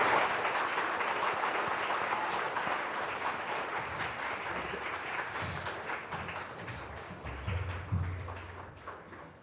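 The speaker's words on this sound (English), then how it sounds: "He deserves a much better applause." Sustained audience applause for a corporate quiz grand finale champion receiving the championship trophy, a dense steady clatter of clapping that gradually thins toward the end, with a few low thumps near the close.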